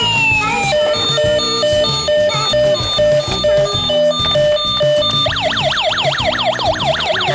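A toy ambulance siren wails steadily, first in a repeating two-tone pattern, then switching to a fast rising-and-falling electronic whoop, loud and close.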